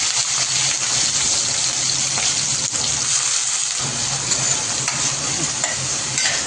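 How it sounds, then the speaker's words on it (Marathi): Onion hitting hot oil already crackling with mustard seeds, cumin and curry leaves for Mumbai-style usal, giving a loud, steady sizzle and frying hiss with faint stirring, no talk. "आता याच्यामध्ये कांदा टाकूया।"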